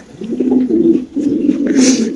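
Pigeons at a pigeon farm coo in low, throaty rolling calls, close and loud, with two overlapping bouts separated by a short pause and faint higher sounds in the background.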